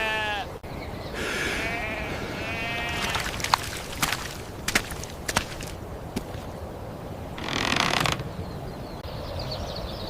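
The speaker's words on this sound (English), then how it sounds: "His sheep! His flock did this!" Several sheep bleat in wavering, harmonic cries, a flock calling near and loud one after another, with clatter and rustling between the calls and no talk.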